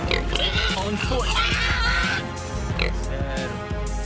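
Feral wild boar in Arizona farm country grunt and oink in repeated rough bursts, heard fairly close, with a voice talking over much of the sound and a music bed underneath.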